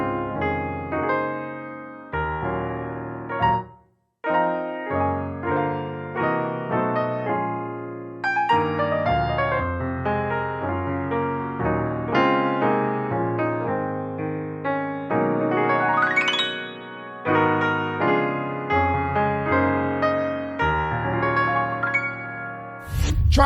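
Solo piano plays a flowing gospel chord progression using a tritone substitution, with melodic runs, pausing briefly once before continuing.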